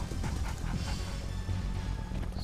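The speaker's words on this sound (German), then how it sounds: "Dieses Brrrr, das Knurren von den Hunden ist das gleiche wie bei Alarmstufe Rot 1 schon." Attack dogs growling in Command & Conquer: Red Alert 2, a low rumbling snarl with panting-like pulses under game sounds, moderately quiet and continuous.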